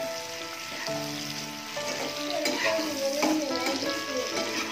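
Chilli pork fries in a pan while being stirred, a continuous close sizzle broken by scraping stirs, with no talking.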